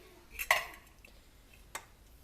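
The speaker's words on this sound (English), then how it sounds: "So we're adding our pumpkin." Canned organic pumpkin drops into waffle batter in a bowl, giving a soft clink of utensil against the bowl followed by a brief, faint scrape; close and quiet, with no talk.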